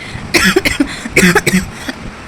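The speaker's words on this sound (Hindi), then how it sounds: "मुझे खांसी बहुत ख़तरनाक हो रही है" A few harsh coughs in quick succession, close to the microphone, with a short pause before a final fainter cough.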